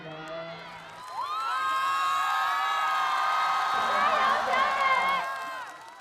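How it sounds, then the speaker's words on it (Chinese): A television show audience bursts into loud, sustained cheering and shouting that swells, holds for several seconds and then fades, with a host's voice heard briefly at the start. "再次把掌声送给他们3位"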